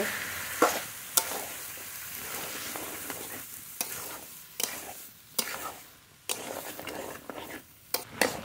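Chickpeas and boiled peas stirred into sizzling masala in a pan, with repeated scraping strokes and clinks over a continuous fry, fairly close.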